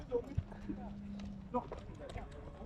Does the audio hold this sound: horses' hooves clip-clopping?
yes